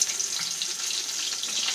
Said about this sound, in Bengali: ফুলকপিটা ভেজে নিচ্ছি।